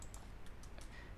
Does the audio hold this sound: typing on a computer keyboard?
yes